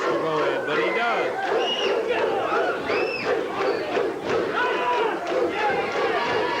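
A 1985 Memphis television wrestling crowd roars and yells in a steady, dense wash of voices, with shouts rising out of the noise throughout.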